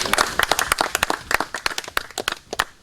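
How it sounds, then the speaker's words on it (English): An audience at a farm road groundbreaking ceremony gives a round of applause, a fairly sparse scattering of distinct handclaps with uneven rhythm, close and moderately loud. "I think we deserve a round of applause"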